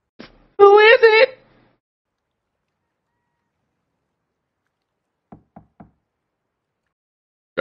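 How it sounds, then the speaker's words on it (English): Knocks on a door sound as a few sharp, evenly spaced raps, faint and brief, after a short vocal sound; otherwise quiet. "Gotta do the secret knock."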